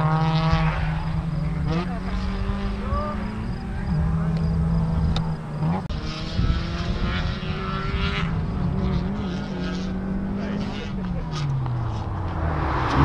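Honda Civic race cars, a 9th-gen leading an FD2 and an FA5, on the final lap of a track session at Honda Super Meet 2020: engine notes rise and fall through gear changes as cars pass, loud and continuous throughout.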